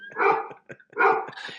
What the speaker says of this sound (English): You named your dog Emily?